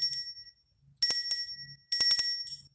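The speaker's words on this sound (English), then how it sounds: "This really small metal bell that has just" A small bright metal bell rings in quick clusters of dings, each strike leaving a clear, shimmering tone that fades before the next.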